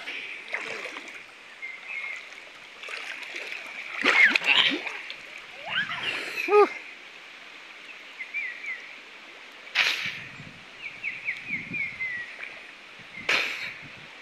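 Water splashes and sloshes in bursts as people move around in a river, with a steady stream flowing underneath throughout.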